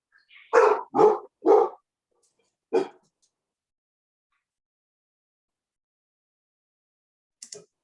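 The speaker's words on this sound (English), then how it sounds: "Whoever's dog just barked, it got mine to start barking too." A dog barks in quick succession during an online council meeting: three loud, close barks followed by a fourth lone bark, then near silence with a faint sharp sound at the end.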